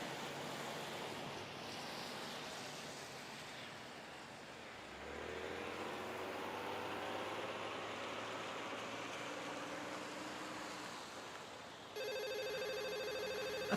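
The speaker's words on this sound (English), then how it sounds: "A familiar soft ringing begins to sound from Lily's side." A mobile phone rings softly in a visual novel game, a regular electronic ring entering near the end over a steady wash of background ambience, with no speech.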